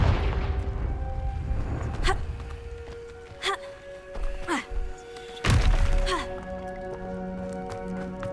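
Confringo blasting spell in Hogwarts Legacy: several sharp magical blasts and explosive thumps, a final heavier boom near the end, set against game music.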